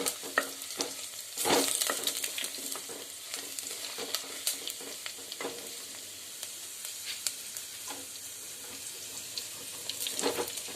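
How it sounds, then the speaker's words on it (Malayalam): Ginger, curry leaves and garlic sautéing in a pan for neyy meen fish curry, a continuous close sizzle broken by frequent scraping stirs and clinks, louder around the second mark. "ഇഞ്ചി കറിവേപ്പില വെളുത്തുള്ളി ഇത്തരം ഇവിടെ ചേർത്ത് കൊടുത്തിട്ടുണ്ട് ഇതൊന്ന് ചെറുതായിട്ട് വഴറ്റി കൊടുക്കണം"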